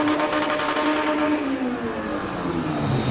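A car with a B16 engine accelerates hard through the gears, its loud engine note rising in pitch and then dropping at each shift, close and alone.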